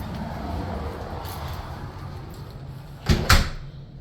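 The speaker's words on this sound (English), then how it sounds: "We're gonna go into the front door" The front door of a house opens with two quick, fairly close clunks near the end, heard over a steady background hum.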